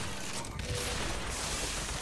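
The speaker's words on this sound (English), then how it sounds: "Oh, those are machine guns also." Dense machine gun fire in BioShock Infinite, a continuous loud rattle of rapid shots filling the mix for two seconds with no pauses.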